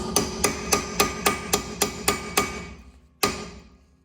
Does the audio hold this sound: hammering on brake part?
yes